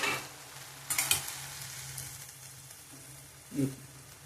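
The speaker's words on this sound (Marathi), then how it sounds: "मस्त हलवून घ्यायचं का। आपण पाहू आता शिजली का, मऊ शिजली का।" Green mung bean curry stirred in a pan, a soft sizzle under a few scraping stirs, with a louder clatter near the start and a short thump toward the end, no talk.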